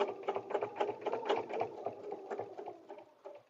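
A sewing machine runs quietly, stitching fabric for a paper-pieced butterfly dresser scarf with a rapid, even chatter of needle strokes that slows slightly toward the end.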